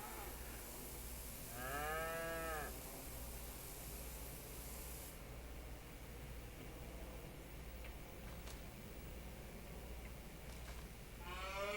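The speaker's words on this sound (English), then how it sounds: "God, you cows are loud." Cattle in Farming Simulator moo loudly, one long drawn-out call followed later by another starting at the end, over a steady low machinery hum and hiss.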